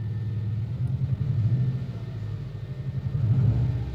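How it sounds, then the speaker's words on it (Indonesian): A 2010 Subaru Exiga 2.5 turbo with CVT rumbles with a deep, steady engine drone that swells slightly near the end, heard close up with no talking. "Suara turbonya itu juga dentumannya keras banget."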